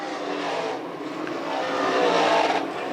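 358 modified race cars roar down the front straightaway at Can-Am Speedway during a feature race, a dense, loud engine drone swelling as the pack passes.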